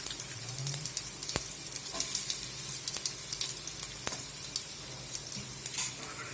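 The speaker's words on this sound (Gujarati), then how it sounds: "થોડી મૂંગ નાખી અને આ બટેટા સાતરી લઈશું" Potatoes sautéing in a pan with bay leaf, chili, cumin and mung beans give a steady, fairly quiet sizzle, broken now and then by a few sharp ticks and clinks, with no voices.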